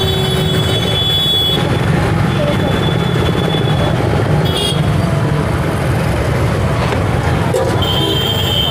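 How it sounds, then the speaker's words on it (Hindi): Busy city street traffic at Shivganj Chowk, a crowded junction, makes a loud, dense, continuous rumble, with a few short high honks rising over it. "शहर में ट्रैफिक बढ़ती जा रही है।"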